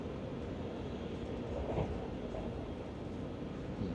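A Dutch InterCity double-decker passenger train rolls along on the way to Amsterdam, giving a steady, continuous rumble and rail hiss heard from inside the carriage, with no talk.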